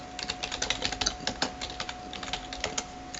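Quick, steady keystrokes clatter on a computer keyboard, a run of light clicks at close range with no voices.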